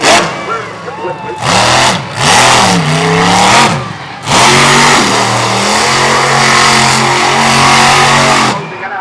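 A monster truck engine revs hard during a freestyle run over dirt jumps at a back-to-school monster truck show, roaring loudly and close in surging waves that rise and fall, then holds a steady, powerful drone.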